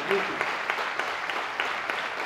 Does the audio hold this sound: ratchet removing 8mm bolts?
no